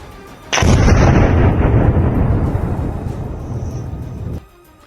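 A single loud explosion in a cave erupts suddenly, followed by a long echoing rumble that fades slowly before cutting off.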